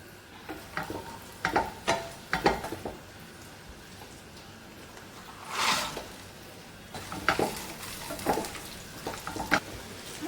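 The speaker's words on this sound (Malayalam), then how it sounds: "നെയ്യിൽ വാർത്ത് വയ്ക്കണം." Cashews and raisins frying in ghee, giving a steady low sizzle broken by repeated sharp scraping stirs, with a louder hiss burst midway and more clustered stirring strokes near the end.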